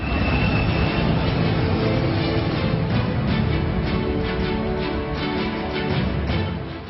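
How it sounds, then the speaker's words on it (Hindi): Indian Air Force C-17 Globemaster transport aircraft flying in Japanese skies during a joint exercise with a Japanese C-2, a loud, steady engine roar that holds for several seconds, slightly easing toward the end. "जापान के आसमान में भारतीय वायुसेना के ग्लोबमास्टर की उड़ान।"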